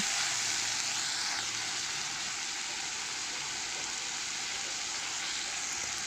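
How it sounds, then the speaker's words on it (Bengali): Ground spice paste with turmeric and salt frying in a pan for a Bengali prawn and hilsa curry with giant taro, giving a steady, even sizzling hiss throughout with no talk. "সুন্দর করে মশলাটাকে ফ্রাই করে নেব।"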